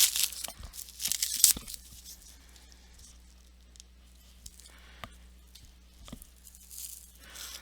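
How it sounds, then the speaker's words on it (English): Saran plastic wrap being torn from a roll for a watercolor technique, several sharp crinkly tearing bursts close up at the start, then quieter occasional rustles and crinkles over a low steady hum. "this is actually way bigger than what I need, so I could tear it"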